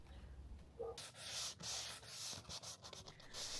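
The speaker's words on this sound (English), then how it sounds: "Time to sand down more edges, of course." Wooden edges are hand-sanded with quick, repeated scratchy rubbing strokes, close and quiet, with no one speaking.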